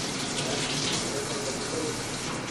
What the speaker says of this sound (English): I'm going to get the water to the right temperature for you.